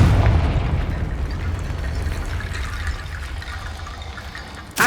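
A Confringo fire spell in the Hogwarts Legacy video game blasts with a heavy booming explosion, followed by a rushing, crumbling wash that fades out before a sharp new hit at the end.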